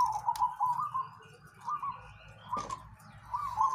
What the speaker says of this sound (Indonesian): ini ambil burung perkutut ini